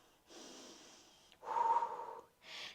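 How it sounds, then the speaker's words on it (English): Deep belly breathing in a yoga flow: a long airy inhale, then a stronger, louder exhale with a slight wheezy rasp, followed by the start of another breath, close and alone. "Keep breathing deep to the belly"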